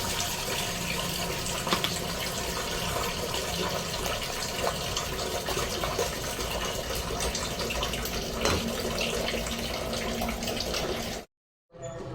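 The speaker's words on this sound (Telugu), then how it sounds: "తగినన్ని నీళ్లు పోసుకుని" Steady rushing water runs continuously for several seconds, loud and close, like liquid being poured from a vessel into a pot of ivy gourd gravy curry, then cuts off abruptly.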